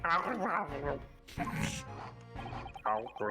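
During a session of the video game The Great Ace Attorney, a human voice imitates a dog with barks and yips while other people talk over it.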